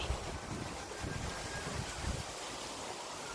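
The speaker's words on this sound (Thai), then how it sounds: "ลมแรง ลมแรง" Strong outdoor wind buffets the microphone with steady roaring rush and low rumbling gusts, continuous and loud throughout, with no voices.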